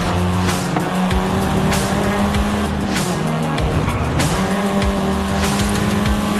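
Volkswagen Golf R, seventh-generation hatchback, driven in Forza, engine holding a steady loud drone with rising and falling pitch, occasional tire squeal and passing whooshes, continuous and close throughout.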